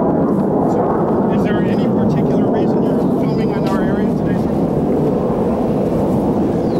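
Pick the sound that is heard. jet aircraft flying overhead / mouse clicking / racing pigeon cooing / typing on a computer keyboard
jet aircraft flying overhead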